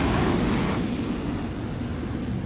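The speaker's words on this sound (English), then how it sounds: "the skies over Lemoore echo with the deafening roar of FA-18 jet fighters" Deafening roar of an F/A-18 Hornet jet fighter over Naval Air Station Lemoore, a loud, steady broadband rumble that fades slightly as it continues, with no talk.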